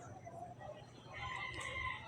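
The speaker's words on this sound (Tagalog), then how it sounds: "Chicken manok" A rooster crows faintly in the background, one drawn-out call rising near the end over low room noise.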